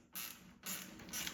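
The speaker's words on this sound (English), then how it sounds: "Then we'll take a 3/16 Allen and a 13mm wrench and tighten this up." Short metallic creaks and ratcheting turns as bolts on a Ski-Doo Gen 5 snowmobile ice scratcher mount are tightened with a 3/16 Allen key and a 13mm wrench, three quiet strokes in a row.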